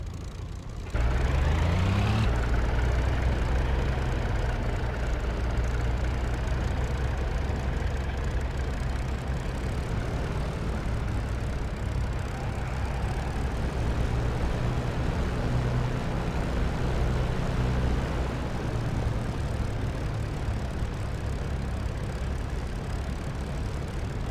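A P-51D Mustang's piston engine drones steadily while taxiing in the DCS World flight simulator, rising from a start-up whine into a loud, continuous rumble with no talking.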